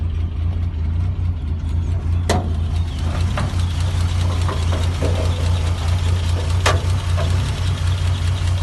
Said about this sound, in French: Je vais vous faire écouter la musique de ce 6 cylindres